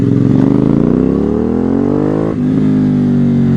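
Aprilia Dorsoduro motorcycle engine while riding, a loud close engine note climbing steadily in pitch as it accelerates, briefly dipping at a gear change before pulling on again.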